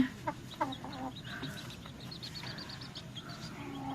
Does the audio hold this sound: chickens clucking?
yes